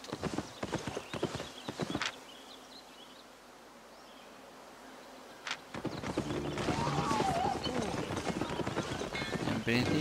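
Donkey mount hooves clip-clopping in the online game Albion Online, a run of quick steady hoof clops under game ambience and music, with a quieter gap partway through, while someone talks in Spanish over most of it.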